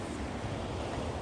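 Sea waves washing on the Moray Firth shore, a steady noisy wash blended with wind, continuous and fairly near, with no talk.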